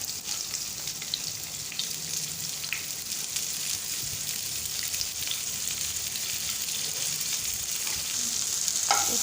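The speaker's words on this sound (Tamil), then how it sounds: "இப்போ வெங்காயத்தை வதக்க ஆரம்பிச்சுக்கலாம்." Sliced onions frying in about three spoons of oil for pepper chicken, giving a continuous dense hiss and crackle, close up, with faint scraping of a utensil.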